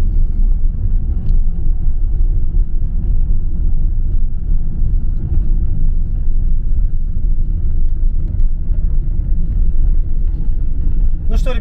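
A Mercedes Vito van drives along a snowy Chisinau city road, giving a steady low engine and road rumble inside the cabin with no breaks.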